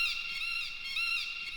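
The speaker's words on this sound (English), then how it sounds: "I also threw in a few cool little peacock sounds." Peacock call samples are layered as an effect in a build-up of an electronic music track: high, wavering, piercing cries repeat twice over a thin sustained tone, fairly quiet and without any voices.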